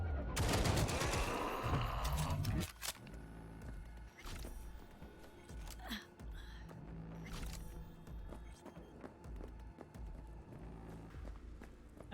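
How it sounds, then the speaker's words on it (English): Heavy machine gun fire in the video game Cyberpunk, a dense loud burst of rapid shots at the start, followed by scattered sharp impacts and clatter over quieter game sounds. "it's got a heavy machine gun mount"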